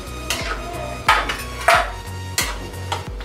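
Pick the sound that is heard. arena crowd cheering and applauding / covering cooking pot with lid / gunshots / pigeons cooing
covering cooking pot with lid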